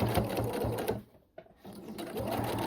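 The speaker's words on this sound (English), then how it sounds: "we're going to remove the pin, back stitch, and we're stitching through all 4 layers" Sewing machine stitching through four layers of tote bag fabric, a fast close mechanical needle rattle that pauses briefly mid-clip, then resumes at a steady pace.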